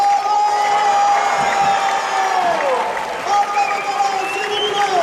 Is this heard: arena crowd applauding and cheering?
yes